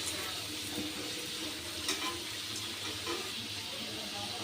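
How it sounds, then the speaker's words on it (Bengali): Potatoes fry in a pan with a quiet, steady sizzle and faint bubbling. No voices are heard over it. "আলুগুলো আমার লাল লাল করে ভাজা হয়ে গেছে"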